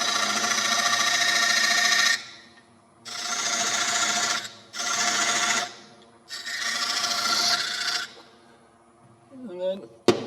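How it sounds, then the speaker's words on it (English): Parting tool cutting into wood on a lathe, with four rasping bursts of cutting separated by short pauses and a brief clatter near the end. "Shove a parting tool in."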